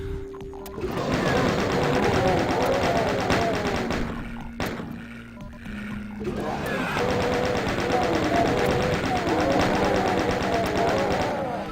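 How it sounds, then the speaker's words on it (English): A chain gun fires in the video game Doom, loud rapid mechanical bursts in two long runs with a short pause between, layered with game sound effects. "Chain gun is very effective in episode 1. You can shred pretty much anything with it."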